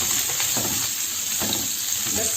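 Green chillies and mustard seeds fry in hot oil, giving a steady close sizzle broken by a few soft bursts as the pan is stirred, with no voices.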